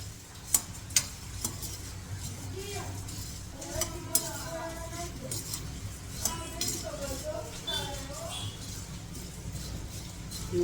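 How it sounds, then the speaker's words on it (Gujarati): Puffed rice (mamra) being tempered in a pan gives off a soft sizzle and scraping stir, with light clinks of utensils, continuous beneath a woman's speech nearby. "જો આ મમરા વઘાર્યા છે"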